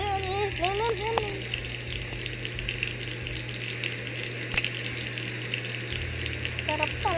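Water splashes and gushes continuously while someone bathes outdoors, a steady rushing wash with a low hum underneath, as a voice and other voices chatter briefly over it.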